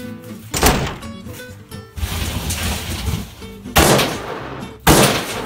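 Bags of packaged ice slammed down hard to break up frozen chunks, giving several loud, sharp cracking impacts like gunshots, spaced about a second apart, close up and with no voices.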